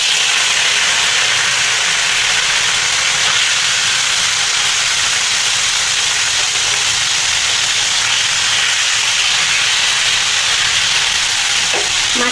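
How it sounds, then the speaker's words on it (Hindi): Small chuna fish frying in hot oil make a loud, steady, broadband hiss that runs unbroken from start to finish, with a brief clink near the end. "देखंतु तेल गरम हो गले एबे आम माछ पकेला"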